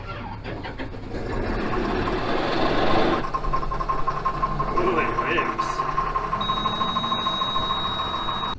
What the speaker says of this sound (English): I'm gonna let this tractor run.